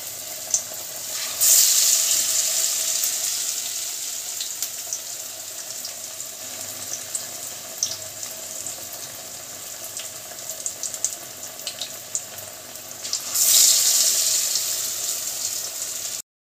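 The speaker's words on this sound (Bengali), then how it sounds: "আমাদের তেল গরম হয়ে গেছে," Stuffed ash gourd fritters frying in hot oil over low heat, a steady broadband sizzle running throughout with louder bursts near the start and end.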